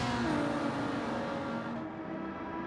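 Ferrari GT3 race cars in Gran Turismo scream along at high revs, a steady loud engine drone with a shifting pitch as one car holds close and another fades slightly.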